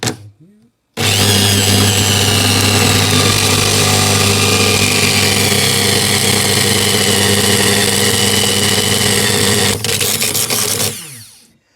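Dremel 3000 rotary tool, plugged into mains power, runs at full speed with a loud, steady high whine for about nine seconds, then cuts off and winds down.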